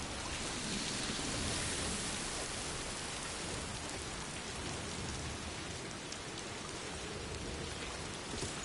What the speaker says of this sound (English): Oh, it's already timefall raining.